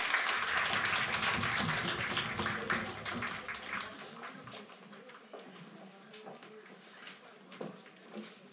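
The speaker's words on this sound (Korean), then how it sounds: "우리 훈련생들 나오실 때 우리 큰 박수로 우리 격려해 주시면 감사하겠습니다" A church congregation applauds trainees at a discipleship-training graduation service, a dense wash of clapping that is loud at first and thins out to scattered claps by the end.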